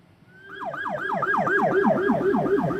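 An ambulance siren wails in a steady rising and falling cycle, loud and close, swelling as the vehicle approaches with no voices over it.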